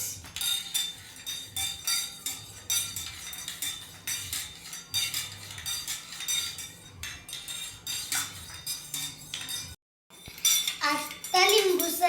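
A metal spoon mixes lemon sherbet in a glass with rapid repeated clinks and scrapes for several seconds, then a brief pause before louder clinking resumes.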